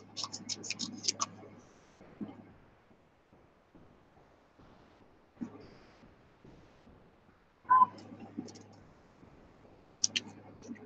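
Scissors trimming out a small paper bird cutout for a mixed media art journal, several short crisp snips and paper rustles in scattered clusters, close and quiet with pauses between.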